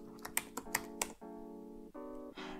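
Git clone command typed on a computer keyboard in a terminal window: a few sharp, quick keystrokes at the start, then a steady sustained tone with no further clicks.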